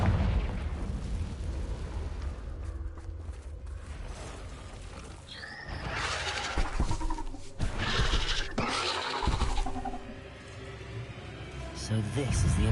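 A Confringo fire spell bursts in Hogwarts Legacy, with loud blasts and crackling impacts around an Acromantula cave, a sharp boom near the middle and more bursts after it, over game music and a voice speaking.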